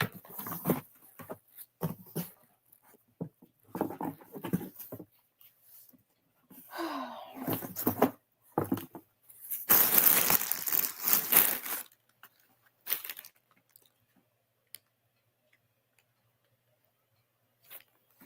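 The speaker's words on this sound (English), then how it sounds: "that's why you hear me opening boxes" Cardboard boxes being opened and handled indoors: scattered rustles, taps and crinkling, with one longer burst of tearing or scraping partway through, then trailing off into near silence.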